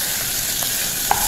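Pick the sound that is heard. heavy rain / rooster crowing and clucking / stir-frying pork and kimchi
stir-frying pork and kimchi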